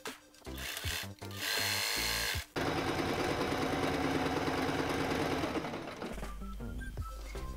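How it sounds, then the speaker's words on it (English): A sewing machine stitches two skirt panels of a vintage-style summer dress, starting with short bursts, then running in a long steady whir, with a lower hum near the end. "I have the two skirt ones that now I'm going to sew together."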